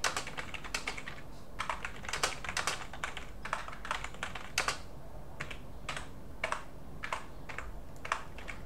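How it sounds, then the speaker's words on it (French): Typing on a computer keyboard, bursts of quick key clicks with short pauses between them, quiet and close against a faint hiss, no speech. "Et là, on peut taper un texte."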